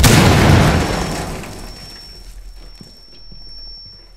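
A breach charge detonating in Rainbow Six Siege, a loud close blast at the start that decays into rumbling debris and fades to quieter scattered clatter.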